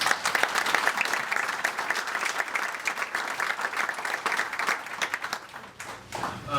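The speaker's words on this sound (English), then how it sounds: "So Adam and Chris, a big round of applause for them." Applause from the audience at a college athletics hall of fame induction ceremony, a dense, loud and sustained crowd clapping that fades slightly near the end.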